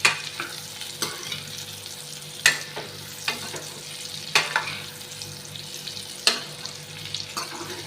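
Amla (Indian gooseberry) pickle fries in oil while a ladle stirs it. A steady sizzle runs underneath, broken by sharp scrapes and clatters of the ladle every second or two. No one speaks.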